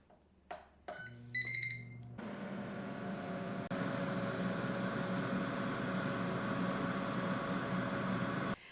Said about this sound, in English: now I'm going to turn on my air fryer